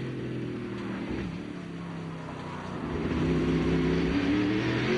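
NASCAR Craftsman race truck engine at Portland in 1999, a loud, close drone from inside the cab under careful throttle in low gear, dipping then building into a stronger, rising roar.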